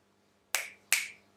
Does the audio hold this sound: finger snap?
yes